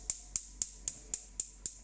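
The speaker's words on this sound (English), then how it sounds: "Now first, you turn on the lighter." A stove lighter clicks seven times in a steady, quick rhythm, each a crisp, high snap over a low background hum, fairly quiet and close.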